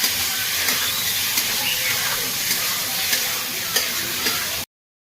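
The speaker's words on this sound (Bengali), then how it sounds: "এবার চিকেনটা এর মধ্যে আমি দিয়ে দেবো। হালকা হালকা এটা ভেজে নেবো" Chicken pieces frying lightly in a pan, a loud dense sizzle with small crackling pops and occasional stirring knocks, close up and steady before cutting off abruptly.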